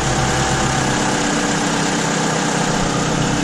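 Toyota RAV4 engine, a 2015 model freshly serviced with new oil and filter, idling steadily and close by with a constant low hum and rumble, no talk.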